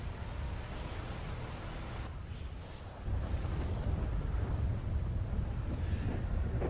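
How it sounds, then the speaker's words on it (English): Thunder in the GTA 5 video game, a deep continuous rumble with a broad hiss like rain, quiet and steady, dipping briefly before rising again. "I can literally feel the thunder."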